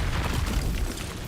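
A Confringo fire-blast spell in Hogwarts Legacy, a dense, rumbling blast that fills the short moment and fades slightly at the end, heard alone without talk.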